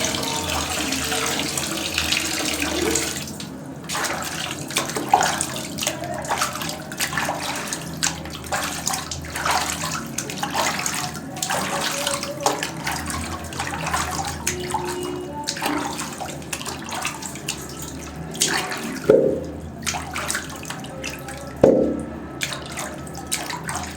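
Water running from a tap while chopped vegetables are washed in a kitchen, a continuous splashing stream with clattering and sloshing as the pieces are rinsed, moderately loud and close, no talking.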